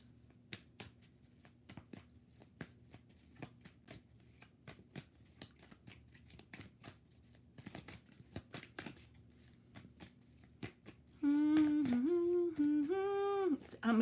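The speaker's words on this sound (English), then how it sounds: "Last shuffle." Tarot cards shuffled by hand in a live reading, a rapid run of crisp riffling snaps and flutters over about eleven seconds, followed by a loud steady humming voice.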